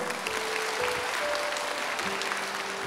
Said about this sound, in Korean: 우리 같이 박수할까요?